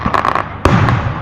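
Fireworks launching and exploding: a crackling burst of pops is followed by a sharp, loud bang and a lingering rumbling tail, heard from a moderate distance with no talk.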